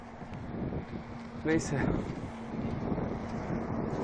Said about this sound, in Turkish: Rüzgar biraz çevirme veriyor ama fena değil yani.